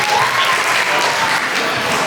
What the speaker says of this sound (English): Let's give a big round of applause to the FOMA committee.